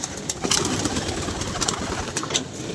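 Pigeons at a rooftop loft coo steadily through the whole stretch, with soft overlapping calls mixed with nearby rustling and a few sharper bird notes, fairly close and continuous.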